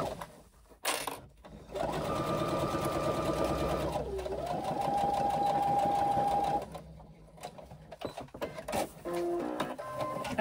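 A home sewing machine stitches a side seam in a garment lining, a sustained whirring run of several seconds with a brief pause and shift in pitch partway, preceded and followed by short handling clicks and faint talk.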